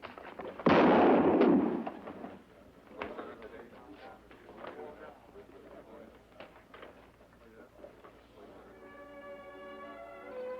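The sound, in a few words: gunshot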